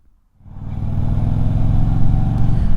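A motorcycle engine starts up and idles steadily after a short silent lead-in, a loud close throbbing rumble with a regular low pulse, recorded through a wired mic on an action camera, with no talking.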